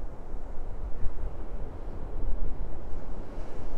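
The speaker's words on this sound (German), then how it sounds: "Also es ist schon ein ziemlich starker, böiger Wind, der zwischendurch immer mal wieder aufkommt" Strong gusty wind buffets a microphone on a nearly deserted beach at Maspalomas, Gran Canaria, a loud rumbling roar that surges and eases without talk.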